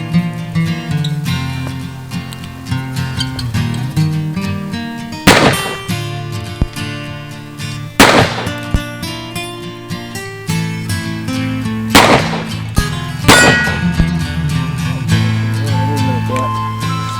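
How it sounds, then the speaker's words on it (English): Colt 1855 .31 pocket revolver firing several shots, sharp loud reports at irregular intervals over a steady background of music and talk. "as you can see, this gun actually hits with some authority"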